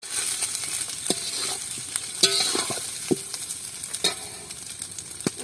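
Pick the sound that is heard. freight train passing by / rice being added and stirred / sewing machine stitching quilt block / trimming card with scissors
rice being added and stirred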